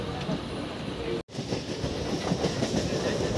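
A local train runs on rails between Chennai and Tiruttani, with a loud, steady rumble and rhythmic clickety-clack of wheels that cuts out briefly before resuming.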